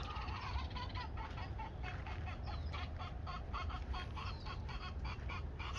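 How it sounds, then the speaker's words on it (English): Chickens clucking in a San Diego permaculture food forest, a steady series of rhythmic clucks at moderate distance over a soft outdoor hiss, with no talk. "Please excuse the chickens."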